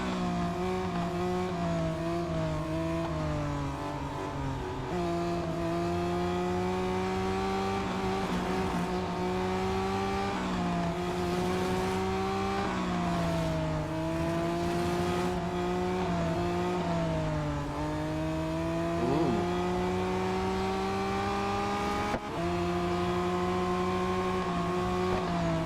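A race car engine in the mobile game Real Racing 3 drones loudly and continuously, its pitch rising and dipping through gear changes and revs, with occasional tire squeal and no talking.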